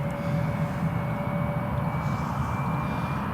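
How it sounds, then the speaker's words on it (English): A Swiss-registered EasyJet Airbus A320 on approach to Newcastle Airport gives off a steady, moderately loud jet drone with a faint high whine running through it. "Got the EasyJet A320 from Switzerland, just coming in onto the approach now."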